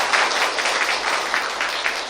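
Audience applause at a science policy forum, a dense, steady burst of many hands clapping in a hall, loud and close with no speech over it.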